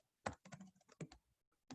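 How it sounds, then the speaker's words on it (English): Rapid clicking keystrokes on a computer keyboard, close and crisp in short irregular bursts with brief pauses. "sorry guys for the typing"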